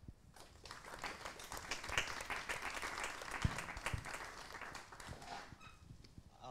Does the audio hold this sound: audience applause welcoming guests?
yes